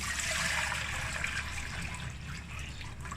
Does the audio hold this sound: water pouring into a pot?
yes